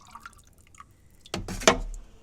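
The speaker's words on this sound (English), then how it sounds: "I kind of let the drips drip a little bit" Ceramic stain glaze drips and splatters off a pottery piece in two or three quick, close wet taps after a quiet stretch of faint trickling.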